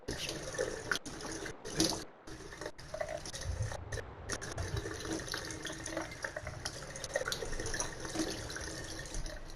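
Water runs steadily from a tap in a continuous splashing hiss, close by, with a few brief dropouts early on and a faint thump near the start.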